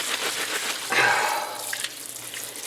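Tap water runs steadily into a sink while chopped celery pieces are scrubbed for broth, a continuous close splashing hiss with a brief louder gush partway through.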